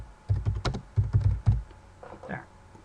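Keys clatter in quick bursts as someone types a layer name on a computer keyboard during a home projection-mapping setup, close and clear, with a couple of pauses between flurries.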